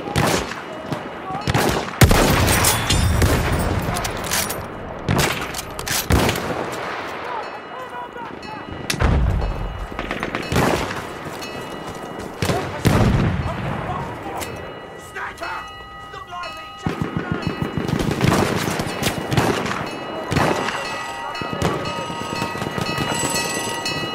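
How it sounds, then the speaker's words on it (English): Enemy artillery booms repeatedly in Battlefield 1 Rush on the Sinai Desert map, loud and close, heavy blasts arriving every few seconds with gunfire rattling between them and voices talking over the battle. "When the enemy artillery barrel will stop firing."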